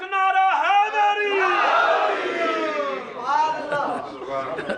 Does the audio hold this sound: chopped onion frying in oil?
no